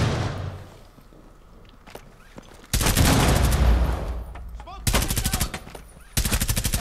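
Gunfire in the Rainbow Six Siege video game: loud sustained automatic bursts follow a quieter stretch, with rapid rattling shots in several volleys and faint voice nearby.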